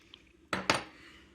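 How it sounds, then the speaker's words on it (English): Two quick, sharp cuts come from an X-Acto knife slicing down the middle of a germinated chestnut root, close and crisp, a short pause between them, with a faint tail afterward in a quiet room. "Now I'm going to cut the root down the middle. With the X-Acto knife."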